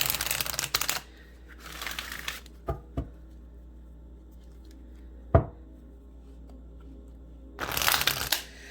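Queen of the Moon Oracle cards being shuffled during a full moon reading, with a riffling burst at the start, another around two seconds, a few sharp taps and one loud snap, then a final shuffling burst near the end, close and fairly quiet, with no voice.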